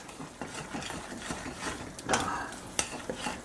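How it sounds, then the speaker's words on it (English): A spoon stirs garlic powder into a pot of cooking black bean stew, giving soft scraping and bubbling sizzle with a few sharper clinks, no voices. "stir that all up in there and let it cook and melt"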